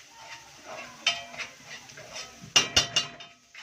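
Onions stirred in a pan for an Egyptian home-cooked meal, with a spoon scraping and knocking against the pan in a few irregular clacks, several sharp close knocks bunched near the end, over a soft sizzle.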